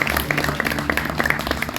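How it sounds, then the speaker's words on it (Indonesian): Church congregation clapping during a sermon, a dense, steady run of hand claps with some voices mixed in underneath. "Beri tepuk tangan bagi Tuhan."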